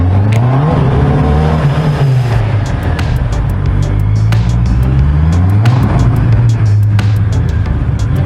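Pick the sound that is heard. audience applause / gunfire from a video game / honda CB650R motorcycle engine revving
honda CB650R motorcycle engine revving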